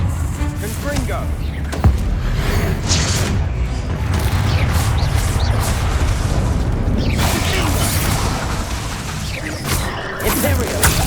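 Confringo blasting spells exploding in Hogwarts Legacy: loud, close booms and bursts with debris crashing, overlapping in a dense, continuous barrage of blasts and rumbling impacts.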